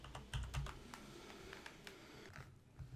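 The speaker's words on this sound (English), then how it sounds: "Just start typing, and we're going to type in item." Typing on a computer keyboard while entering a short text field in Microsoft Access: a scattered run of light, close key clicks with uneven rhythm, a few louder taps early on, and no talking.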